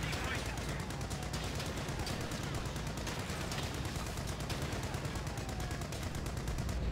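A tank machine gun in War Thunder fires at an Ostwind anti-aircraft vehicle, a continuous fast chatter of shots running steadily throughout, heard faint and distant against a dense background rumble.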